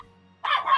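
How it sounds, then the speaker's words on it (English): A single short dog bark, close and fairly loud, following a brief quiet stretch. "Your doggos are so adorable"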